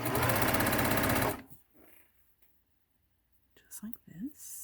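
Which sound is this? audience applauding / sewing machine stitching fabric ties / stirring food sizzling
sewing machine stitching fabric ties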